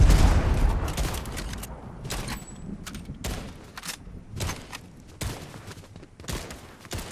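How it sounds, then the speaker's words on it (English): Grenades and gunfire in a video game, a rapid series of sharp explosive bursts and cracks at irregular intervals over a continuous noisy combat background, fairly loud with no voices. "Your Poseidon's throwing grenades, bro."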